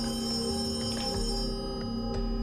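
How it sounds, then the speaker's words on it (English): An unfamiliar phone ringtone plays steadily, a sustained electronic ringing tone that fills the room with no speech over it. "That's not my ringtone."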